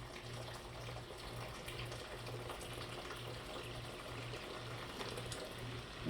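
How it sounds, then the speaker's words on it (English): A hot water dispenser filling with water in a kitchen, heard as a faint, steady rushing flow with a low pulsing hum running evenly underneath, with no talking. "I got a hot water dispenser right behind the camera, so I'm filling that up as we speak"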